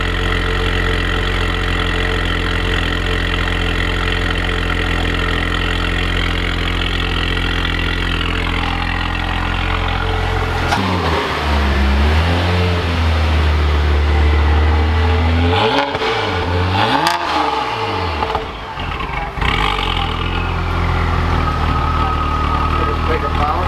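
A tuned Saab Turbo X engine idles loudly up close with a deep steady rumble, its pitch dipping and wavering as the revs settle down, while people talk over it.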